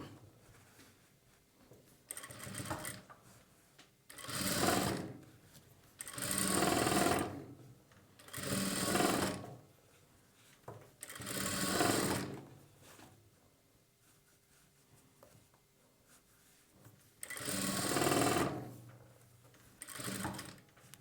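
Sewing machine stitching a boat-neck blouse close along its piping, about seven short bursts of fast rattling stitching split by quiet pauses, fairly close and soft, with no talking.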